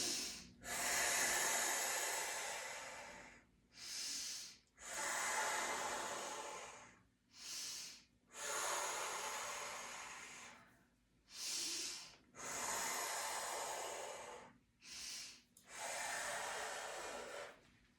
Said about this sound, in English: Breathing through the nose.